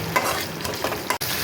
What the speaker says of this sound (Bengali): এটাকে দিয়ে আর একটু ভালো করে কষিয়ে নেব।